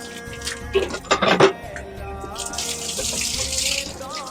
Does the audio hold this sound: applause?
no